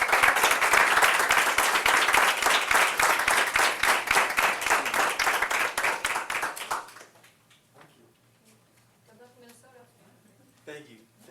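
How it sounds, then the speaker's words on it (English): Audience applause at a school board of education meeting, dense clapping for about seven seconds that stops abruptly, followed by quiet room sounds and a voice. "Round of applause."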